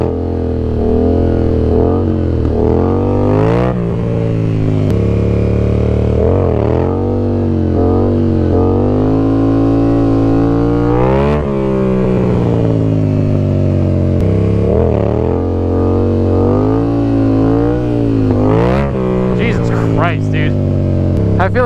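A Yamaha MT-07 motorcycle engine revs loudly and continuously during stunt practice, its pitch climbing and falling through repeated throttle blips, with a voice speaking intermittently underneath.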